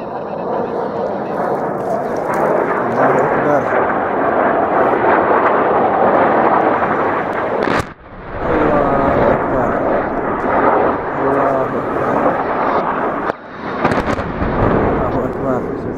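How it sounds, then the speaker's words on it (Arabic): Russian warplanes bombing the Syrian town of Kafr Nabudah produce a loud, continuous roar that dips briefly twice, with people's voices in the background. "قصف بلدة كفرنبوذي بالطيران الحربي الروسي."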